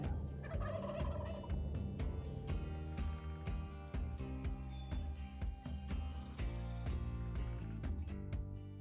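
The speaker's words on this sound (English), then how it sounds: "The cacophony of gobbles and hen yelps quickly reveals there are a lot more birds here than originally thought." Wild turkeys at a cut cornfield in Nebraska, repeated rapid gobbles overlapping with hen yelps in a dense chorus from several birds, steady and fairly close.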